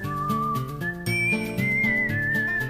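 A whistled melody leads a Western cowboy-style video game soundtrack from 2002, clear and upfront over plucked accompaniment, with the tune stepping between sustained notes and no talking.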